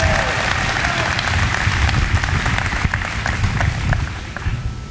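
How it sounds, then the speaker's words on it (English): Big round of applause for the class of 2019 at a college orientation welcome program, sustained crowd clapping that stays full and steady before tapering slightly at the end. "I'd like to give the class of 2019 a big round of applause."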